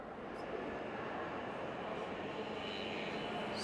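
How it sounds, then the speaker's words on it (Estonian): A Portuguese Alfa Pendular high-speed train gives off a steady, loud, broadband rush and rumble throughout, with no break or change. "See on siis nüüd alfa tüüpi rong, Portugali kõige populaarsem kiirrong."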